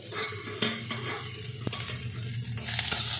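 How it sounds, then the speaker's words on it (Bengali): Green chillies sizzle in a pan on high flame, a close, steady frying hiss punctuated by metal spatula scrapes and a sharp clink against the pan. "এটাকে আমি একটু হালকা ফ্রাই করবো, আমি বেশি কিন্তু ফ্রাই করবো না।"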